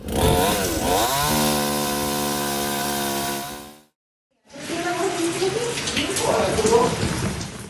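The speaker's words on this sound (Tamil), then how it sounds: "தற்போது மரத்தினை வெட்டி அகற்றும் பணிகள் மேற்கொள்ளப்பட்டு வருகின்றன" A chainsaw cuts up a tree that fell on a house during heavy wind and rain, its loud steady engine whine revving and holding, then after a short break a rougher cutting noise returns under a voice.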